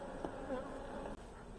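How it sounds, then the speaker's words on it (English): A dense swarm of honeybees hums steadily around hive supers after bee escapes have cleared them, a close, continuous buzz with individual bees whining past. "Look at that, all bees."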